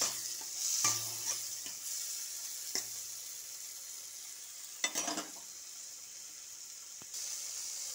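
Vegetables fry and get stirred in a pan with tomato and chopped onion, a steady soft sizzle broken by scraping and clinking stirs at close range, with no talking.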